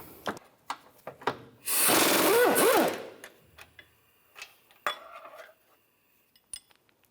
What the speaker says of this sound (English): then a 15mm socket for the bolt. Take the nut off and the bolt.